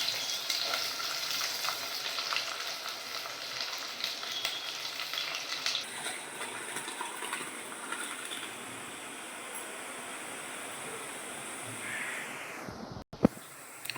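Onions sautéing in a pan for South Indian prawn kulambu give a steady, close sizzle and crackle that eases slightly partway through, with a brief clunk near the end.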